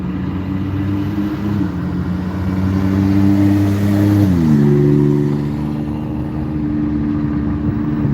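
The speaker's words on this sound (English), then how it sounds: "They need a muffler. You can tell by that noise." A nearby car engine with no muffler roars loudly and steadily, its rough drone dipping and shifting pitch midway as it passes on the road, heard from inside another vehicle.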